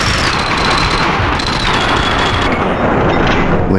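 Heavy gunfire erupts in the shooter video game Max Payne 2, a dense, continuous loud barrage of rapid shots and booms crowding together at close range without any talk.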